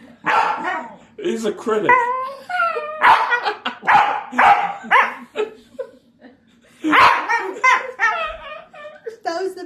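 A small dog gives several sharp, yappy barks at close range, mixed in with people talking and laughing nearby.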